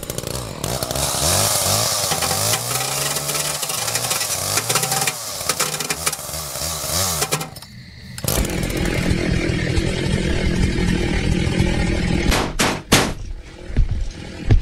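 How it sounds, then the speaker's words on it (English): A chainsaw roars continuously in a Roblox horror video game, with the engine revving up and down, then harsh bursts and sharp cracks that sound like gunfire near the end; loud and close, with no talking. "There's someone with a chainsaw out there."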